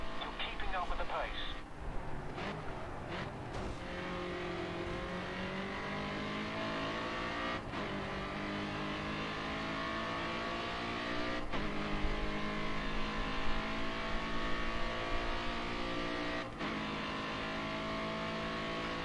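AI race cars accelerate in GRID Autosport, their engine notes climbing in pitch through repeated gear changes. The steady, close mechanical whine drops briefly at each shift before rising again.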